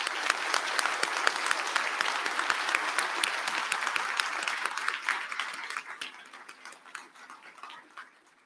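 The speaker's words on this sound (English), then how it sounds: "can you please join me in a round of applause for Mervin Wright?" Audience applause welcoming Mervin Wright at a tribal and U.S. EPA Region 9 conference opening ceremony, steady clapping that thins and fades over the last few seconds, with sparse voices.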